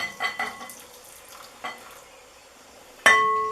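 Chocolate ganache being stirred in a bowl, with soft intermittent scraping strokes close by and a sharper clink near the end, no voices.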